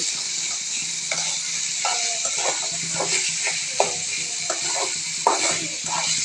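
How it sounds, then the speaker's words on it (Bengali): Onions frying in oil in a pan for a tengra fish dopiaza, a constant sizzle with repeated scraping stir strokes and a couple of sharper knocks, close and clear. "আমরা তেল আর পেঁয়াজ একটু নাড়াচাড়া করে নিচ্ছি"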